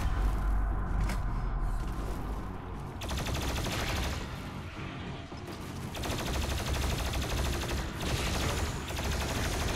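Plasma rifle firing in Doom Eternal, a dense, sustained stream of rapid shots that runs nearly the whole stretch, loud and up close, with brief dips in the barrage and no talk over it.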